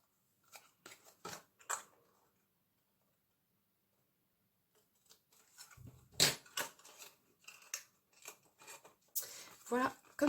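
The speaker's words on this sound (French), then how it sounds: "on va venir biseauter ici les 1 cm de notre couvercle" Cardboard lid edge bevelled with a blade, a series of short, close scraping cuts in quick bursts, pausing in between, with a voice speaking over part of it.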